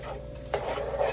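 Garlic and tomato with lemongrass sautéing in a pan for chicken liver sisig, a steady close sizzle with stirring scrapes that swells partway through.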